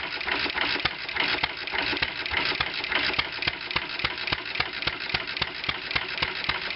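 A 1920 International Type M stationary engine runs steadily with its needle valve adjusted, giving a rapid even chuffing and clicking beat, close and fairly loud, with no talk.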